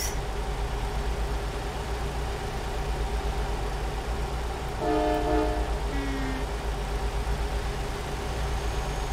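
A brief two-tone vehicle horn honks in a video game over a constant low engine rumble, followed by a short lower tone.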